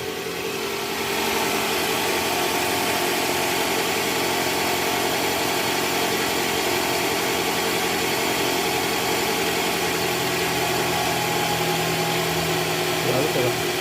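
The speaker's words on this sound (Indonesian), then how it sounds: "Ini bunyinya udah halus sekarang nih" A Toyota Alphard engine with a newly replaced balancer idles smoothly and steadily, a constant close, even hum with no roughness throughout.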